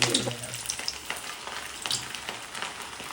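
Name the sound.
fish frying in a pan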